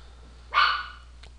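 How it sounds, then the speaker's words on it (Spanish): A very small dog, about 20 to 30 centimetres tall, lets out a single fairly loud bark alone over a quiet steady hum, with a faint click following. "yo tengo un perro que ya está reclamando"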